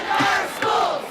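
A loud, roaring crowd of protesting teachers rallies at the Kentucky Capitol, the massed cheering and shouting swelling continuously and close throughout.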